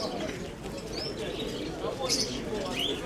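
Pigeons from Dnipro coo and chirp at a market fair, faint calls set against a busy crowd murmur with voices talking nearby.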